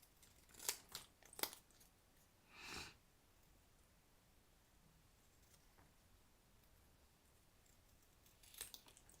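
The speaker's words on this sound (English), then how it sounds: "the milk can, of course, is not too hard to fussy cut because it's a lot of straight lines." Scissors fussy cut pieces of paper card, giving a few quick, crisp snips near the start, then a longer rustle, and a couple more faint cuts at the end in a quiet room.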